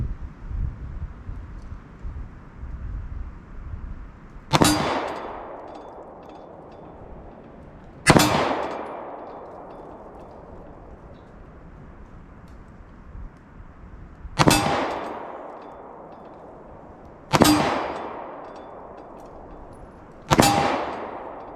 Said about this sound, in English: we just want to put 12 rounds down range